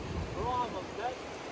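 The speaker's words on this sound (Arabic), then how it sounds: "المي قويه، يعني قويه لدرجه تعالوا هنيك في شلال صغير هنيك" Strong water rushing over a small waterfall, a steady broadband wash with wind buffeting the microphone and faint murmured voices, continuous and fairly close throughout.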